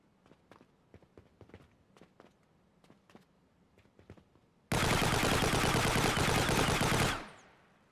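Rifle gunfire in an Unreal Engine 5 recoil demo starts after several soft footstep-like taps. It bursts in as a loud, sustained automatic stream of shots lasting over two seconds, then cuts off with a short fading tail.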